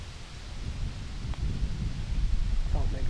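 Strong wind whipping outdoors on a Tennessee whitetail hunt, a continuous low rushing roar with gusty swells buffeting the microphone, close and loud with no talk.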